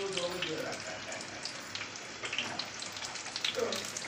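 Batter-coated pomfret fish frying in a pan of hot oil, a soft crackling sizzle with scattered pops, fairly quiet and close.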